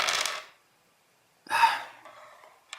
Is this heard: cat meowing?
no